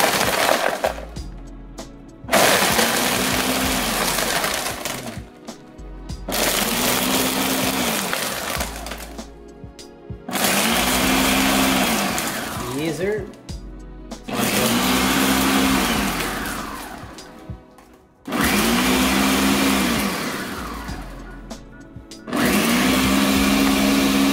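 Ninja blender whipping up a mudslide drink, running in several loud bursts of whirring blade noise separated by short pauses, close and dominant with no talk.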